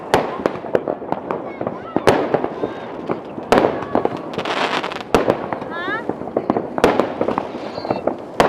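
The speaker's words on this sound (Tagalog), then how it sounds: "Siyempre, May paputok" New Year firecrackers and fireworks going off all around, sharp loud bangs popping at irregular intervals with crackling bursts between, while people talk and shout close by.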